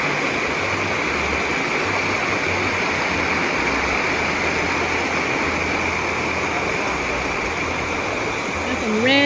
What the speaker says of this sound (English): Over that way, there's another little stream coming in